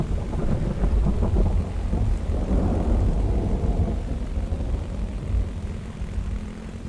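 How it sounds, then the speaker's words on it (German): A thunderstorm with rain in the video game The Infected, with loud, rumbling thunder rolling over steady rain noise for several seconds. "Juhu, Gewitter."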